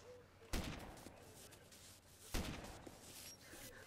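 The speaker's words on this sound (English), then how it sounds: "Heavy machine gun." Heavy machine gun fire in the video game Arma 2 comes as two short bursts about two seconds apart, loud against a noisy background, with no speech over them.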